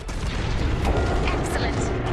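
Enemy blaster fire in the Star Wars Squadrons space combat game sounds as a rapid burst of booming, crackling shots and impacts, dense and loud across the whole moment, with a few whooshing zips on top.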